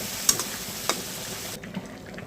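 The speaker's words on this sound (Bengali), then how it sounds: "এখন আমি জালটা কমিয়ে একদম কম জালে কিন্তু এটা ভালো করে কষিয়ে নেব" Prawns sauté in spice paste over low heat for a prawn bhuna, a soft even sizzle with a couple of light utensil taps that quiets abruptly partway through.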